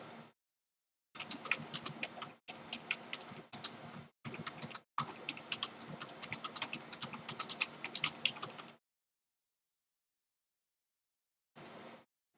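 Rapid keyboard typing in steady bursts with short pauses, close and clear, with no talking over it, then a long silence and one last brief tap.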